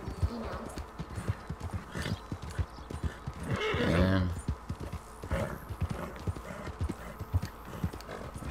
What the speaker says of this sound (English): Daddy's got a new horse now.